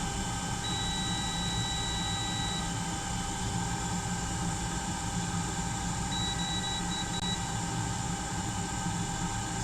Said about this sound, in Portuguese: Espera o barulho da estação de ar diminuir.